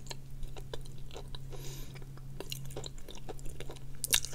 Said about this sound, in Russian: я отлично похрустела.